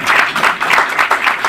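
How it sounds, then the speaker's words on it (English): A brief round of audience applause during a local meeting, closely miked clapping with a loose pulsing rhythm. "I think we can clap right there."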